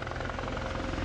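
A navy helicopter flying by, with a steady rhythmic rotor chop and a low engine drone that holds at moderate distance through a short burst.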